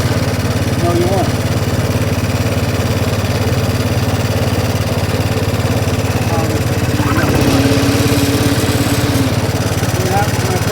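A tractor engine runs steadily nearby with the clutch engaged and the drive going straight to the transmission, a continuous low drone with a thin whine rising briefly partway through, while someone talks.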